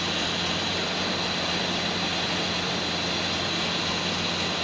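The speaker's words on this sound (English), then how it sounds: "now that it's idling, I think we can start looking to see if it's the same one still misfiring" A Ford Ranger engine idles with a misfire, a loud, steady, close broadband drone with no break across the whole stretch.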